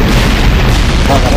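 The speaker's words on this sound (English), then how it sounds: "Enemy airstrike inbound." A loud, deep rumbling airstrike blast from the video game SOCOM 4 fills the whole moment with sustained low boom and debris roar, no pause, speech faintly mixed in.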